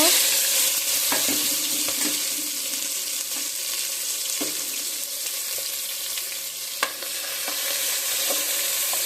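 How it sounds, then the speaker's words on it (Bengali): Chopped onions sizzle and crackle steadily in hot oil with cinnamon, cardamom and bay leaf for biryani, a continuous close frying hiss with occasional stirring clinks. "এখন আমি পেঁয়াজটা দিয়ে দেব"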